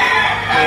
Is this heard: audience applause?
no